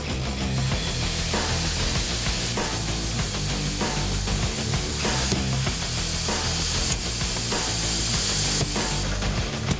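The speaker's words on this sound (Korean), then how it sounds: "실금을 따라 구멍을 내고 망치질을 한다." Workers in a marble quarry hammer and drill the stone by hand, a dense, continuous clatter of metallic strikes and grinding, loud and close, with no talk.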